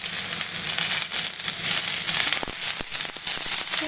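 Food sizzling and crackling in a hot pan as someone cooks, a steady dense hiss with scattered pops and a few sharp clicks, close and continuous with no talking.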